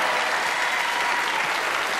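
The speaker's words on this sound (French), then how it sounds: "Applaudissements," Studio audience applause on a French television talk show, steady and dense from start to finish, loud and close with no voices over it.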